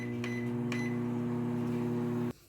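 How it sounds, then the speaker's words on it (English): A microwave oven runs with a steady humming drone while heating a bowl of milk, two faint clicks sound early on, and the hum then cuts off abruptly near the end. "Okay, bowl into the microwave for 2 minutes."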